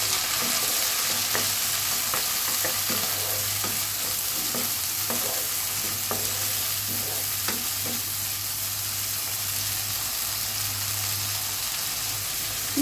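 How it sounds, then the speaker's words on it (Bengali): Shrimp, onion, garlic and green chili fry together in a pan with a steady, close sizzle, broken by occasional stirring scrapes and clicks; a low hum runs underneath and no one speaks. "প্রথমত যেটা করব, চিংড়ি মাছ, তারপর হচ্ছে পেঁয়াজ, রসুন, কাঁচামরিচ এগুলো একটু ফ্রাই করে নেব একসাথে"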